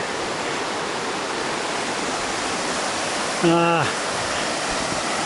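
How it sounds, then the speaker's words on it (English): Fast, heavy flow of the White River rushing as a steady, loud broadband roar throughout, with a brief tonal call or voice cutting in near the end. "Neither of us are keen on crossing the White River. There's a lot of push, a lot of flow down here."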